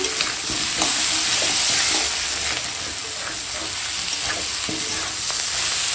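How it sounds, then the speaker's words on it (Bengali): Ingredients for a Malabar spinach dish being stir-fried in a pan, a steady close sizzle with stirring scrapes and small clinks running through the whole stretch, with no voices. "দেখো এখন সুন্দর করে কষাচ্ছি"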